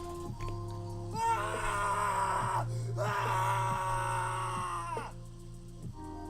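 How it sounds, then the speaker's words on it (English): A scream sound effect from a soundboard button plays on a live stream, two long, loud, strained screams in a row with a brief break between them. "I hit the scream button for Fat Red."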